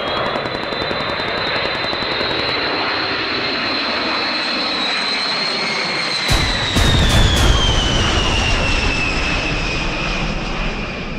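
Enemy bomber airstrike in the military shooter Squad: a steady, loud aircraft engine drone with a whining tone, then a cluster of sharp explosive blasts and heavy rumbling midway through as the bombs land.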